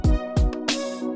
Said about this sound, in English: I don't know if I'm necessarily crazy about that organ